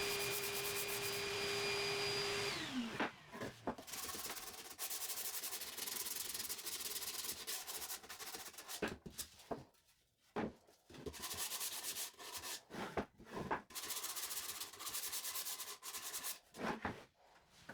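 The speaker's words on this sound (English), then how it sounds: "Finalize with some hand sanding," Bent 2x4 wood is hand sanded smooth: after a power tool's hum winds down, rhythmic scratchy strokes of sandpaper on wood follow one after another, close and fairly loud, with brief pauses between bursts.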